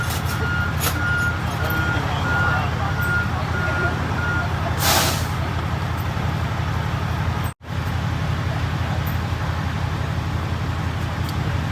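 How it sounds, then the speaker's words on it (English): A tow truck idles at a roadside evidence scene with a low steady engine drone and a repeating reversing beep, while an air brake lets out one sharp hiss midway and traffic hums nearby. "Tow truck driver getting his ramp ready."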